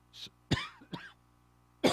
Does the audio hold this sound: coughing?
yes